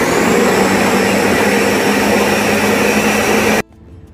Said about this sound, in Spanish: Vamos a llevar a licuar perfectamente, aproximadamente unos 40 segundos.